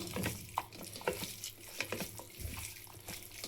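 Ginger garlic paste being stirred with a spoon into a chicken pakoda mixture, giving a soft, wet squelching and scraping with a few sharper clicks, close and fairly quiet, no talking.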